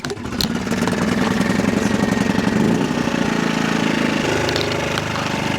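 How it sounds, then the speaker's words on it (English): A portable generator engine runs loudly and close, a steady rough mid-pitched putter with a rapid knocking pulse that holds throughout, with no voices over it. "How not to start a generator?"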